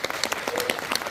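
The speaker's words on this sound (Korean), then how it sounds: "박수 한번 더 주세요." Audience applause at a Korean book talk show with an author, a dense burst of many hands clapping at steady loudness throughout the short moment.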